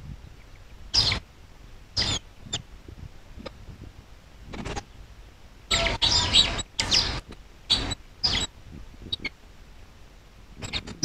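Young white Aseel chicks chirp close by in short, sharp bursts, some single and some in quick clusters, with quiet gaps between them.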